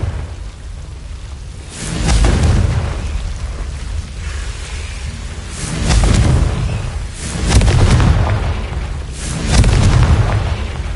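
Repeated Confringo blasting spells in a video game, deep booming explosions rolling out every couple of seconds with long rumbling tails over a constant low background roar.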